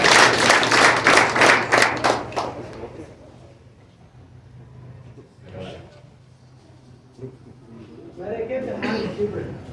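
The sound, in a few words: congregation clapping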